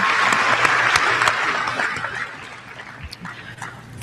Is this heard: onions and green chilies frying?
no